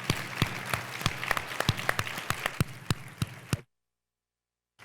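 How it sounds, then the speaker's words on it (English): A summit audience applauds steadily with sharp individual claps standing out, lasting a few seconds before cutting abruptly to silence. "please give her a round of applause"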